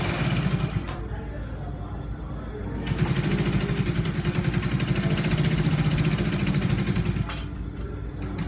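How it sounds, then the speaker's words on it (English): A sewing machine runs a stitch along a shirt shoulder line, a steady, moderately quiet hum in two stretches over a constant low background, with a brief pause near the start. "You're going to make a stitch on the shoulder line."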